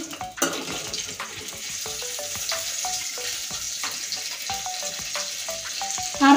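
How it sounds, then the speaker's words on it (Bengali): Mustard seeds, a bay leaf and a dried chili fry in hot oil with a continuous crackling sizzle, broken by frequent sharp pops and spatters close up. "ফোড়নটা লাল করে ভেজে নেব।"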